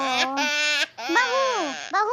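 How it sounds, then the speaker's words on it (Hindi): A baby cries in a home, producing sustained, close, wailing sobs in two long stretches with a brief catch of breath between them. "कब से बच्चा रोए जा रहा है"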